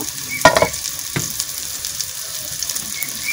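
Dal spice mix is stirred in hot oil, a soft sizzle beneath a couple of clear spoon scrapes and clinks early on, then quieter frying.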